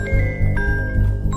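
A mobile phone in a Hindi-dubbed action film scene rings with an incoming call, a brief melodic electronic ringtone of shifting tones over a low background bed.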